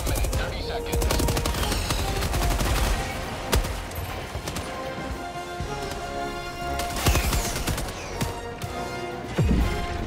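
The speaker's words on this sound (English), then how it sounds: "Someone want to get on this machine gun right here?" A tripod-mounted machine gun in Helldivers 2 fires in long, dense bursts of rapid shots, loud and close, with sharp impacts and crashes breaking through the continuous gunfire.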